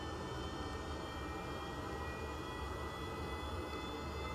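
Rocket engine roaring at full throttle during a video game launch, a steady, dense, loud broadband rumble with a high whine, continuous and unbroken throughout.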